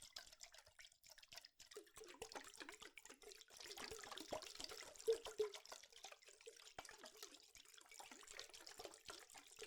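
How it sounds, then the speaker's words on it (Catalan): Water trickles and drips softly for relaxing ASMR sounds, a faint, continuous splashing and dribbling with small scattered droplets heard close up and alone. "Crec que és gairebé més relaxant fer els sons amb aigua que no pas escoltar-los"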